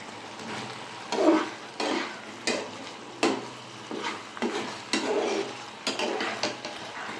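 Vinegar being stirred into chili paneer in a pan, with a spoon scraping and tapping in repeated short strokes, close and moderately loud, with faint frying underneath.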